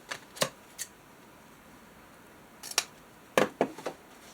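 Scissors snip through material for a journal spine in short clustered cuts, a pair near the start, then a quick burst of several snips after a pause, crisp and close in a quiet room.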